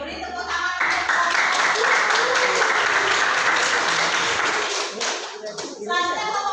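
A classroom of students clapping together, loud and sustained dense applause close by, tapering briefly near the end, with children's voices mixed in.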